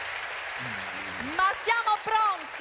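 Audience applause at an Italian stand-up comedy show, clapping for the stage crew as they take down the stage. The applause is a steady wash in the background while someone talks over it.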